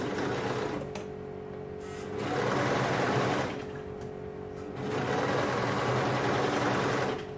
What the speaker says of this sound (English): so we're serging around the armhole